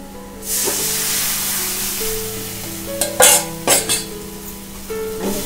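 Gram flour goes into a hot oil tempering, already fragrant and holding turmeric, for Maharashtrian pithla in a Konkan home kitchen. A steady loud sizzle runs throughout, with a few sharper scraping and stirring bursts near the middle.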